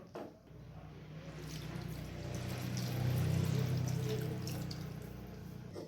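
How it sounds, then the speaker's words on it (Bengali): About two cups of water pour steadily into a simmering matar paneer curry, a soft, continuous splashing stream heard close but faint, swelling slightly midway before easing off. "এরপর আমি এখানে 2 কাপের মতো জল দিয়ে দিচ্ছি।"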